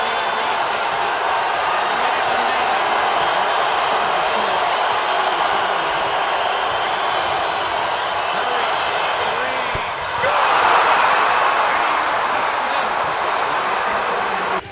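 Dense, roaring arena crowd at a Golden State Warriors game reacting loudly around Steph Curry during his record 73-win season, a steady wall of noise that swells near the end, with sneaker and ball sounds and a commentator talking over it.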